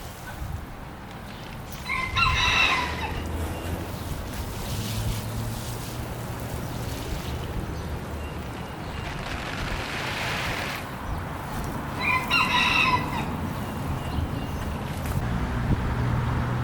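Roosters crow twice, spaced about ten seconds apart and heard at a moderate distance, while hens cluck softly amid steady outdoor background noise.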